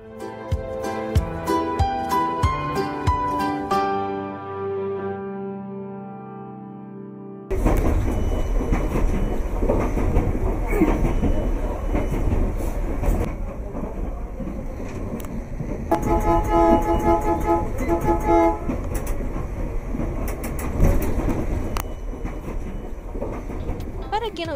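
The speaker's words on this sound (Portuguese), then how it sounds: "trens deixaram de circular e deram lugar para os modernos VLTs" A modern light rail (VLT) train runs along city tracks, a steady rumbling roll with rhythmic clatter that follows a short stretch of music, growing louder as it continues.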